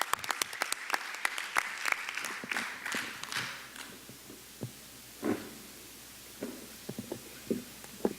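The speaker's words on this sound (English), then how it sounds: "Give all these young people a round of applause for committing themselves to their children's academic future." Audience applause for young people at a school board meeting: a brief spell of clapping that thins out over a few seconds into scattered, isolated claps and a few faint thumps spaced apart in a quiet room.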